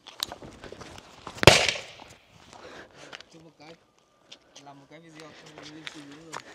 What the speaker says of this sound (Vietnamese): Đốt cả dây nó nổ hẳn.